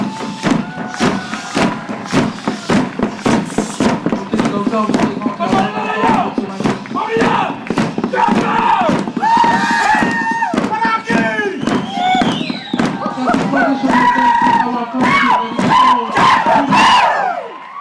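A festival crowd at the 2004 Pacific Arts Festival claps loudly and continuously for New Caledonian traditional dance performers, with dense clapping, cheering and shouting voices throughout.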